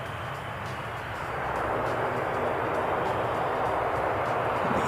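Airliner flight 580 from Auckland passing as a steady, broad jet roar that swells slightly after the first second and holds loud and continuous throughout, with no voices.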